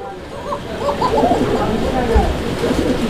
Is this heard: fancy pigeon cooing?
yes